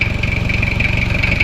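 An engine keeps idling steadily after its battery has been removed, a loud, even, rhythmic rumble with a constant whine above it and no voices.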